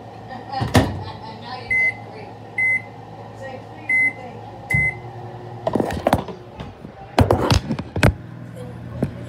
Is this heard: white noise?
no